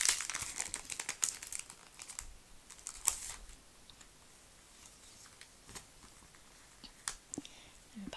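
Masking tape being pulled up for a paper sticker collage: faint, close crinkling and sharp little peeling and rustling sounds in irregular bursts, quiet and intimate.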